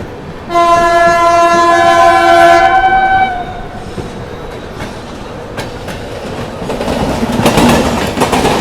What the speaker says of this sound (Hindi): और सामने से बहुत अच्छी रफ्तार में कोई तो गाड़ी आ रही है भाई।